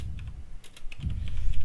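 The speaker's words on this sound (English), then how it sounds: "I hear him typing." Typing on a computer keyboard, a quick run of light key clicks close by under low background rumble from a game session.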